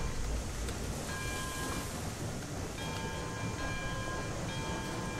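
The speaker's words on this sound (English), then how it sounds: "There we go, nice loaded log train." Loaded log train rolling along in the Railroads Online video game, a steady dense rumble and hiss running throughout with faint tonal ringing layered on top, no talk.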